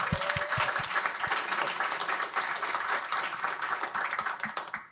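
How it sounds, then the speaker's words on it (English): Audience applause for the panelists at a Python conference panel on static typing: a dense, steady roll of many hands clapping in a hall, with a few louder claps standing out near the start. "I would love to give a round of applause for our panelists"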